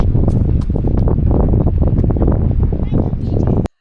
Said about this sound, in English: Today is so windy outside